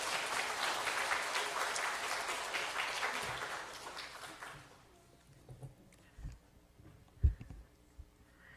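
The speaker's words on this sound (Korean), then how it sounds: "우리 박수로서 환영하시기 바랍니다." A church congregation claps to welcome a guest speaker, a broad wave of applause that lasts about five seconds and then stops, leaving a quiet room with a few faint thumps and shuffles.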